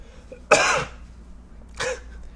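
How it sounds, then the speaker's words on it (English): Two separate coughs ring out close by, the first harsh and sharp, the second shorter and a bit softer after a brief pause. "I have to cough."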